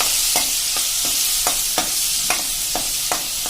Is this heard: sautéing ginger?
yes